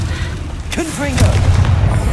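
Confringo blasting spell in Hogwarts Legacy going off in a short sharp boom amid game effects, with a voice speaking briefly around it.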